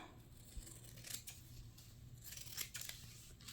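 Scissors snip through fabric while trimming a shorts pattern for sewing, giving a few quiet, crisp cuts close by in a hushed room.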